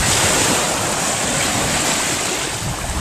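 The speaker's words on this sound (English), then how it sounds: "Anyway, this is Pensacola Beach." Continuous loud surf rolling onto Pensacola Beach, Florida on a breezy day, a dense wash of breaking waves with wind buffeting the microphone.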